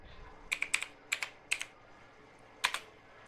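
Short bursts of computer keyboard typing while entering a line command in AutoCAD, a few quick clustered keystrokes, a pause, then a final pair of taps, close and clear.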